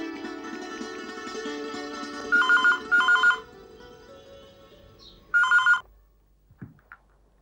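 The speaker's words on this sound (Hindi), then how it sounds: "अरे संगीता, अच्छा हुआ तूने फोन उठाया।" A telephone rings in three loud electronic bursts, two close together then one after a pause, over background music in a Hindi TV drama scene.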